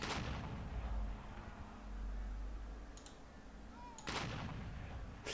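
Booming cannon shots in the game American Patriots: Boston Tea Party, a couple of heavy blasts a few seconds apart over a low rumbling background, with faint distant reports between.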